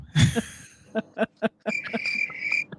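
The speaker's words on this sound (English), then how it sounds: "Play them crickets again." A cricket chirping sound effect is cued up during a live show. Short rhythmic chirps and a sustained high trill follow a brief vocal burst at the start.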